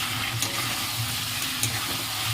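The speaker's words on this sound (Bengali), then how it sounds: "পেঁয়াজটা এখন ভাজি।" Onion frying in oil in a pan while mutton is cooked, a steady close sizzle and hiss with faint stirring scrapes throughout.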